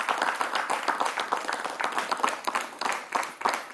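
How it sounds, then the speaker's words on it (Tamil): A studio audience at a Tamil children's game show claps in a steady burst of applause, a brisk scatter of many hands at moderate loudness throughout, without talk over it. "இருந்தாலும் அவர் முயற்சிக்கு நம்ம கைத்தட்டு கொடுத்தாலும்"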